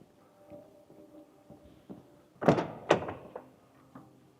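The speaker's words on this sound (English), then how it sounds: "Okay, I'm gonna open some doors." Doors of a 2013 Toyota Tacoma opened in a showroom: two solid thunks close together, loud and near, after a stretch of quiet handling noise with no talking.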